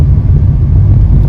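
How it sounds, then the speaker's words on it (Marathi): Heavy road traffic on a ghat section makes a loud, steady low rumble of engines, close and continuous, with no voices. "ट्रॅफिक बघा किती आहे."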